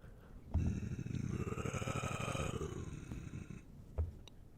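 A voice imitates a cat's purr, making a low, rattling purr-like rumble that lasts about three seconds, with a soft thump at the start and again near the end.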